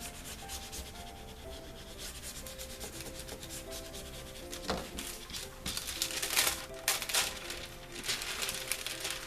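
A gold foil sheet is rubbed onto double-sided tape stuck on a card, making close, dry scratchy rubbing strokes that come in short repeated passes and grow busier and louder toward the end.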